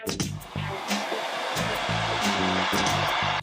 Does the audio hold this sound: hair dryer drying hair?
yes